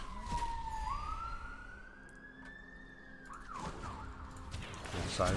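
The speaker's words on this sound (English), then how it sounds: "Sirens outside my house, and I can hear those." Emergency sirens wail outdoors at a distance, a rising and falling tone sweeping up and then warbling, faint beneath scattered nearby noises.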